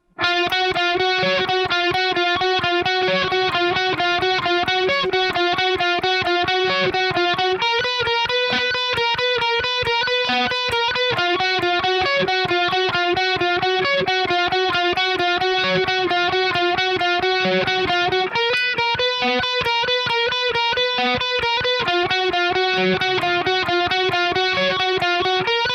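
A distorted electric guitar plays the lead part of a song at a slow tempo, with steady repeated single-note phrases and some shifts between strings, loud and up close with no talking.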